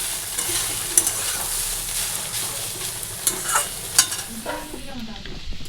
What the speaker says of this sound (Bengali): এই যে সোয়াবিন সেদ্ধ হয়ে গেছে ভাজা বসিয়ে দিয়েছি